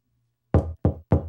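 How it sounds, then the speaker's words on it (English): Three firm knocks on a door, close and evenly spaced, with nothing else heard. "Somebody is knocking at the door."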